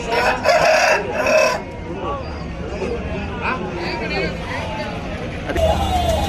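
A rooster crows loudly and close at the Saturday hen market in Mydukur, several crowing bursts cutting through a busy babble of nearby voices and market hubbub.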